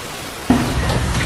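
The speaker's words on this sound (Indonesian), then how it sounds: "Hujan deras tiba-tiba mengguyur." Heavy rain bursts in abruptly after a brief quiet moment, then continues as a dense, steady downpour hiss at close range.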